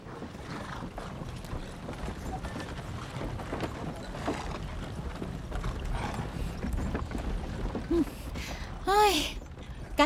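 Horse-drawn carriage in a historical martial-arts film, hooves clip-clopping in a steady rhythm under a dense, busy soundtrack, with a brief high whinny-like call near the end.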